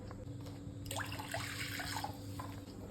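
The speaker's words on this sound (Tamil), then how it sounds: "கொஞ்சம் ஒரு கிளாஸ் தண்ணி அதில் ஊற்றிக்கணும்." Water from a glass is poured into a cooking pot for instant Maggi noodles in a home kitchen, a faint, steady splashing trickle over a low background hum.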